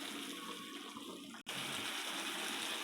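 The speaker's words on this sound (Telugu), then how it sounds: "ఇవన్నీ మంచిగా కలుపుకొని ఒక గ్లాసు వాటర్ వేసుకోవాలండి" Water from a glass poured into a pot of Andhra-style chicken curry, a steady continuous splashing pour that runs throughout with one brief break in the middle.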